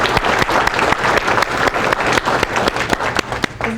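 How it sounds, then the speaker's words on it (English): Audience applause for speaker David Brooks at an interactive seminar, a dense, steady burst of many hands clapping close and loud throughout, with no talk over it. "oh yes, applause."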